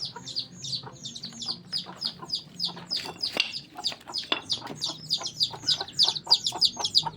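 Bantam chickens, hens with newly hatched chicks, make repeated high chirps and clucks close by, a steady busy stream of short calls throughout.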